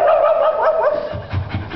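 A voice imitates a dog's bark in a storytelling song, a short yipping, whimpering run of barks sung loud and close, with a low rumble under the final part.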